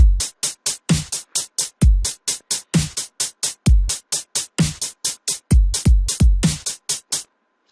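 Electronic dubstep beat programmed in FL Studio, with punchy kicks and crisp snare and hi-hat hits in a steady, syncopated pattern over two bars, loud and upfront with no voice.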